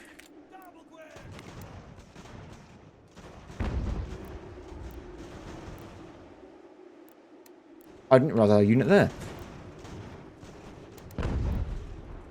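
Cannon and musket fire from the Ultimate General: American Revolution strategy game sound as several deep booms and one sharper, louder volley over a low steady background drone, while someone talks.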